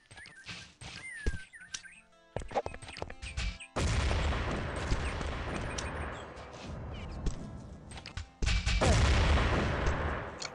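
Gunfire in the online shooter Urban Terror during a competitive tournament match, with sharp scattered shots early, then a dense sustained burst of rapid fire and booms, fairly loud and close.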